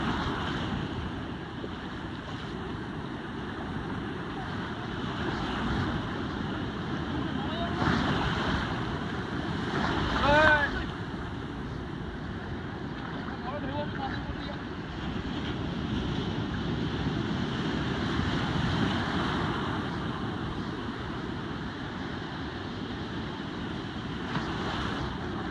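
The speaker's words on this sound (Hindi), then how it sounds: "इतना बड़ा बड़ा लहर है, कहीं मेरा फोन गिर ही ना जाए।" Large ocean waves break and surge continuously on Bokkhali beach, a broad steady roar of surf with gusting wind buffeting the microphone and a few louder crashes.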